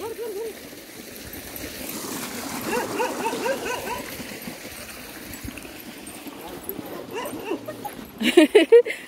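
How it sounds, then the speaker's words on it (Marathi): A dog whimpers and yips on and off amid outdoor background noise and some talking, ending with a few louder, sharp barks. "हे कुत्रं गप्पे नालय."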